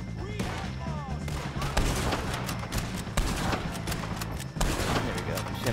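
Gunfire in Red Dead Redemption 2 comes as several sharp shots spread across the moment, loud and close, with someone talking over the game sounds between them.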